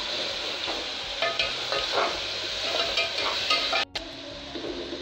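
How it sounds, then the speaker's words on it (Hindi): Onions sizzling in oil in two pans on side-by-side stove burners, with a spoon scraping and stirring in bursts, and a brief metallic clank near the end; steady frying hiss throughout, no talk. "देखिए, मैं दोनों तरफ अच्छे से चम्मच से चला रही हूँ, ताकि हमारी प्याज दोनों अच्छे से हो जाए,"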